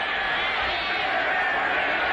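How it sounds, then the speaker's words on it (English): A football stadium crowd during a 1985 NFL game chants for the Refrigerator, a steady, dense roar of many voices with a broadcast announcer talking over it. "The crowd is saying it's refrigerator time."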